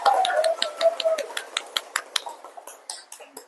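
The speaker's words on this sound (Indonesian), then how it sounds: "Tepuk tangan untuk temannya." Scattered classroom applause for a student: a brief voice, then a few sparse, uneven claps that thin out into single close hand claps.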